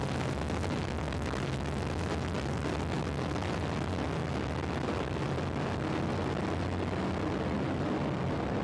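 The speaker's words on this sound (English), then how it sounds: "We have ignition and liftoff of a Delta II rocket and WISE" A Delta II rocket ignites and lifts off carrying the WISE satellite, producing a loud, continuous, unbroken roar that fills the whole stretch without any voices.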